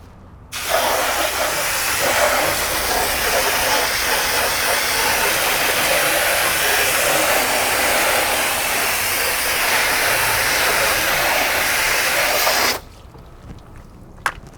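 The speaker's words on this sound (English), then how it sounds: "I'm gonna go ahead and rinse off the tire" A water spray rinsing a Tesla tire hisses loudly and steadily for about twelve seconds, a broad rushing spray close by, then cuts off abruptly into quiet.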